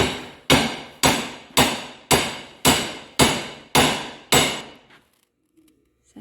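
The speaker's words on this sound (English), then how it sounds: "Taking a U-joint apart." Eight sharp, evenly spaced metal hammer strikes ring out loud and close as a U-joint is knocked apart, each blow decaying before the next, then silence.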